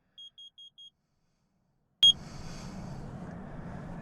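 A carbon monoxide detector at a winter camp sounds four short, evenly spaced high beeps in an otherwise silent stretch, then a sharp loud chirp followed by steady noisy background.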